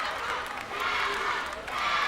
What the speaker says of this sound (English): A crowd chanting, Tower, Tower, Tower.